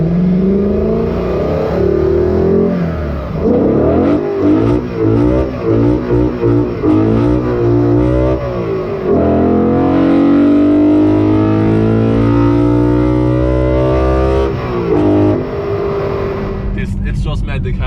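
BMW E92 M3 V8 fitted with an Eventuri carbon plenum intake, revving repeatedly with rising and falling engine notes and a long sustained rev near the end, loud and close, with people talking over it.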